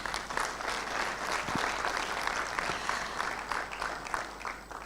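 Steady, moderately loud applause from an audience at a national summit on substance abuse and illicit trafficking, an even wash of many hands clapping throughout, with no voice above it.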